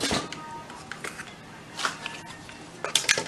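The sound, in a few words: picking up a wooden spoon among kitchen utensils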